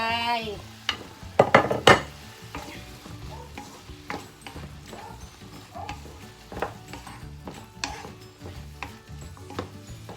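Pork and eggplant stir-fry in a pan over a steady sizzle, with repeated sharp scrapes and clinks of a utensil against the pan, loudest in a cluster early on, no voices.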